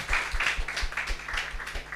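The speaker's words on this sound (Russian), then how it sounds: "Давайте еще раз поаплодируем Господу." A church congregation claps together in a steady, moderately loud round of applause with a fairly regular rhythm, without any voices over it.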